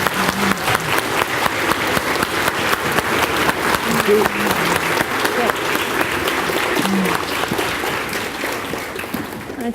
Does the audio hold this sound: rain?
no